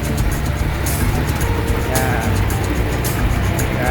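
A truck engine drones steadily nearby at a livestock market in Urdaneta City, Pangasinan, rumbling with road noise and wind throughout.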